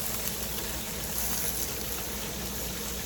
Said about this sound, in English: Add just a little water to steam it.